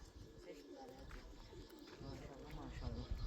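Soft cooing of a pigeon or dove repeats under steady low-pitched chatter and background noise, fairly faint.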